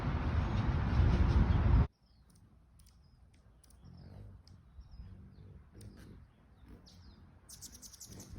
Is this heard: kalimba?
no